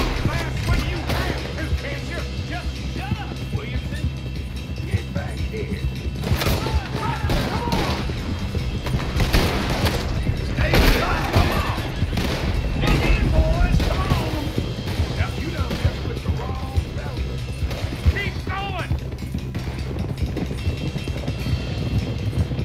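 Scattered gunshots and bangs from a Red Dead Redemption 2 shootout during a robbery, sharp reports popping irregularly over a busy backdrop of game noise, with people talking throughout.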